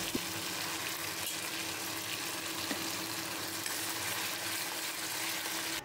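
Hilsa fish frying in a pan gives off a steady, even sizzle, constant and fairly quiet throughout with no voices.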